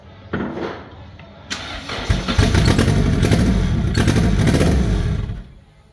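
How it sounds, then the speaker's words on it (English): A junkyard car engine cranks and catches, then revs up loudly and roughly for a few seconds before dropping back, close by. "Turn it on, just give it some gas"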